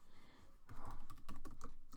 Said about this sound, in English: You don't want to watch me typing stuff out.